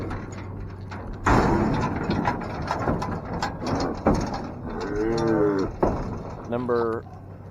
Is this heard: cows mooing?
yes